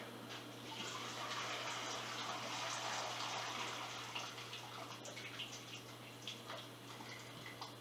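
Hot water being poured over cooked extra lean ground beef to rinse it, a soft steady splashing stream lasting several seconds over a low electrical hum, quiet and fairly close.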